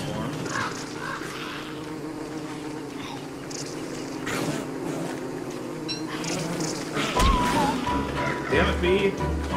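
Buzzing bee in the survival game Don't Starve, a steady insect drone running throughout amid busy game sounds, with a voice speaking partway through.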